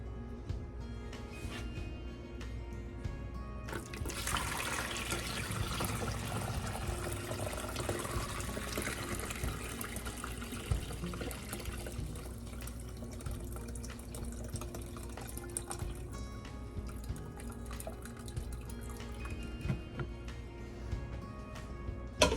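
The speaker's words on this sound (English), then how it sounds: "I'm trying to pour the whey into" Whey pours steadily from a bucket into a strainer for a long stretch, a broad splashing rush, with some clanks and drips as it tapers off.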